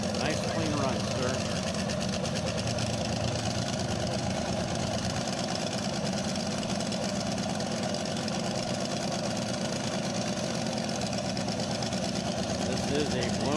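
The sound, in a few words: blown fuel Lakester race car with an A engine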